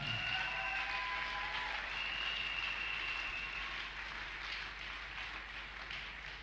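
A church congregation applauds an acclaimed person with steady, dense clapping that holds at an even level throughout and trails off slightly at the end, with no voices over it.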